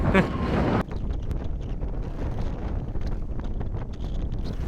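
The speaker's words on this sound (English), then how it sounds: "We're not too keen on moving when it's this windy." Steady, heavy wind buffeting a microphone aboard a sailboat at Plymouth, England, a roaring rumble that continues throughout, with a brief higher gust at the start.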